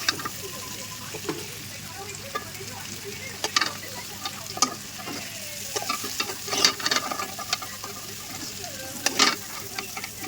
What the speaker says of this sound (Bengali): এখন তরকারিটা কষাবো